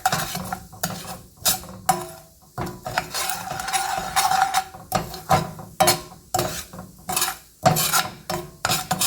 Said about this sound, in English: Mix all the masala together.